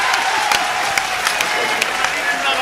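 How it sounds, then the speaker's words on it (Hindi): Applause and cheering from a crowd at a Hindi poetry recital, continuous clapping with scattered sharp claps and crowd noise throughout. "जरा ताली वाली बजाइए"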